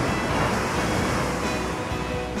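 Surf washing onto a Corsican beach in the evening, a continuous broadband roar of waves mixed with wind buffeting the microphone, steady and fairly loud.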